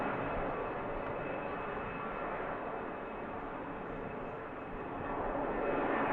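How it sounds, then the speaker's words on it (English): EasyJet jet airliner at Manchester Airport, engines spooling up into a loud, steady broadband roar that swells slightly toward the end, heard from a distance outdoors with no talk. "EasyJet, noisy spool up."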